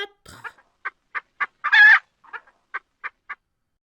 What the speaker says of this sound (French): Vous avez reconnu le cri d'alarme de la poule.